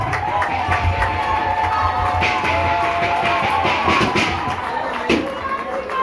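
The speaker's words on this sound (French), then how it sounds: "Applaudissements s'il vous plaît." Crowd applause and cheering at a primary school ceremony in Ituri province, a steady dense wash of clapping and shouting children that runs throughout, loud and close.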